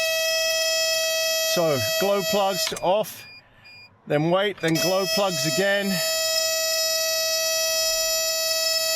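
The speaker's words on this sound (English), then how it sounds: "It'll be the brake warning alarm because it's depressurized." A van's brake warning alarm sounds as a steady, loud, continuous electronic tone through the whole stretch, with brakes depressurized in -7°C cold, while someone talks over it.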